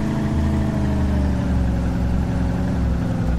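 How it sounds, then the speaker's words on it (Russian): A car engine in the video game DayZ drives uphill under steady strain, a loud, continuous, low-pitched drone with a rough harmonic rumble and no talk over it. "О, какая машина, она просто тупо прет в гору."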